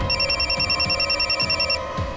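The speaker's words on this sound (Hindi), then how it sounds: "ओके, सावंत का फोन था" An electronic telephone bell rings in a police office, loud and close, with a steady repeating trill that cuts off near the end.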